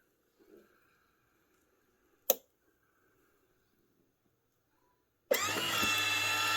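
A vacuum sealer starts up after a short quiet pause with a single sharp click, then runs as a loud, steady motor drone to the end.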